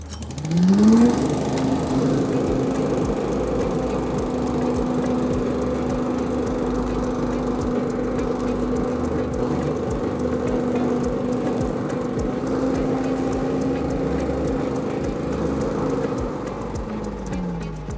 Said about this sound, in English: just pull the lever back to stop the engine